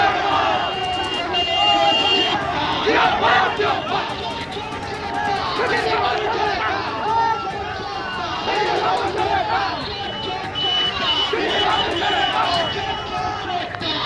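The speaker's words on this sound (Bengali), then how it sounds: "নন্দীগ্রামে বিজেপি এবং তৃণমূলের স্লোগান যুদ্ধ।" Rival BJP and Trinamool supporters at a Nandigram election rally chant slogans and shout over each other, a dense, continuous crowd clamor of many voices at steady volume.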